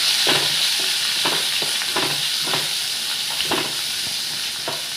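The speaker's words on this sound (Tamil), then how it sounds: "வெங்காயம் போட்டுட்டு ஒரு மூணு நல்லா இது மாதிரி கலந்து விடணும்" Onions stirred and sautéed in a hot pan for a banana-stem dish, with a loud continuous hiss of frying broken by repeated rhythmic scrapes of a spoon, close and without speech.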